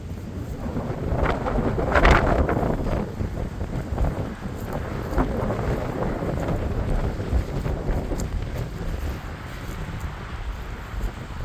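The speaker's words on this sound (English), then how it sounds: "Kind of a windy day, so you get the wind as well as the noise" Wind buffeting outdoors in a cemetery, a low rumbling roar with gusts that swell and ease, with a faint distant traffic hum underneath.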